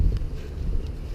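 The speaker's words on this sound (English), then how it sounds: "Oh, I wish this wind would make its mind up." Wind gusting around a narrowboat-style canal boat, a steady low rumble and buffeting with occasional brief hiss, loud and close with no voices.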